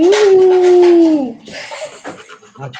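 A child imitates an elephant's cry with one loud, sustained wailing tone lasting about a second. Then it breaks off, and people talk quietly afterward.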